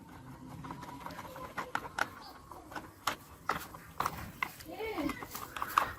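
Small screws driven tight with a screwdriver into a battery-operated toy police car make a run of light, sharp plastic clicks and ticks at close range, scattered under a person talking.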